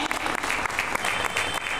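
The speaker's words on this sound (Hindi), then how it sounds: "एक जोरदार ताली" Audience applause at a political party district event: dense, continuous clapping from a sizable crowd, steady and fairly even throughout, with no speech over it.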